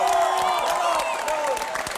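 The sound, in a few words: applause and cheering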